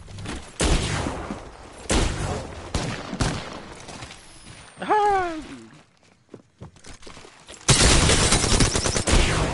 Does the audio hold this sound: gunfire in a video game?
yes